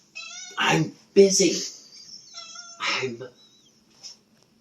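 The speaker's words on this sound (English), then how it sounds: "Hi, kitty. Meow." A cat meows several times in short, drawn-out calls, close by, with a person's voice mixed in among the cries.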